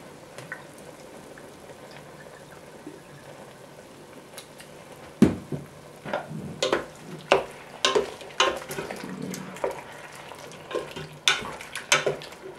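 Pork belly with chestnuts frying in a wok as cooking wine and soy sauce go in, a quiet steady sizzle that turns into a run of sharp, louder splashes and crackles, close up with no talking.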